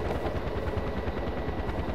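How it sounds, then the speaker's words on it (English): Steady close helicopter rotor thump fills the scene in the shooter game Far Cry 4, a dense continuous chopping drone with no pauses or speech. "I normally kill the fucking helicopter."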